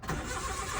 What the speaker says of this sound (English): Today, we're going to start the Suzuki carry